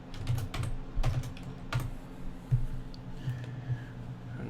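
Close, fairly quiet clacking of keys on a computer keyboard in short irregular bursts over a low steady room hum.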